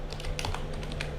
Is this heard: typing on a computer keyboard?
yes